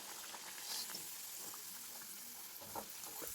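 Puri, a navane millet dough, deep-frying in hot oil, giving a steady close sizzle with small crackles and bubbling pops throughout, with no voices.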